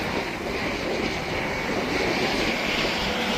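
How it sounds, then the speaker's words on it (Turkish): An ambulance helicopter passes overhead in San Diego, California, a steady broadband engine and rotor roar that holds at a fairly loud, even level throughout, with no talking. "Ambulans helikopter geçiyor."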